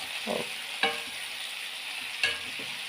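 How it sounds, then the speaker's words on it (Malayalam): Steamed green beans being stirred and sautéed in a pan: a soft, steady background sizzle broken by a few distinct scraping stir strokes, close and fairly quiet. "ആവിക്ക് വെച്ച പയർ അങ്ങോട്ട് ഇടുവാണേ അപ്പം നല്ല ഒന്ന് ഇളക്കി യോജിപ്പിച്ച്"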